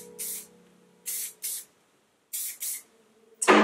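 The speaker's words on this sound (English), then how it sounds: "So I like to spray each section separately and just comb it through." Five short hissing bursts of hairspray from an aerosol can, in an uneven rhythm, close up and fairly loud, followed by a brief clatter at the end.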